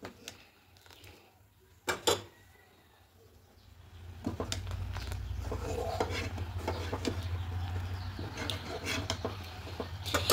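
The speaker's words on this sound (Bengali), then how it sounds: "এবার এখানে ওই কাপেরই 1/2 কাপ পাটালি গুড় দিয়ে দেবো। দিয়ে খুব ভালো করে মিশিয়ে নেব।" Half-boiled rice and patali jaggery stirred in a pot: a few sharp scrapes and clanks against the metal, then continuous scraping and rubbing that grows steady and louder, with faint birdsong outside.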